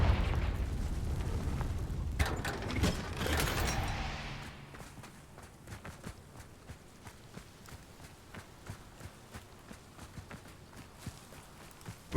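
Blasting spell explosion in the video game Hogwarts Legacy, a loud fiery burst with crackling debris over the first four seconds, followed by quieter footsteps and small game sounds.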